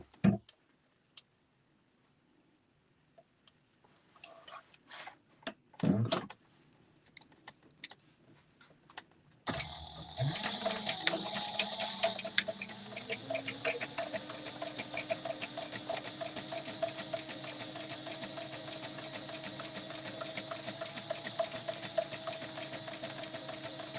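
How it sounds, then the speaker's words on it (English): After a few scattered taps and handling noises, a sewing machine starts up and runs steadily while top stitching a sling bag, a fast, even, close mechanical chatter with a constant motor hum that continues to the end. "we're going to top stitch first"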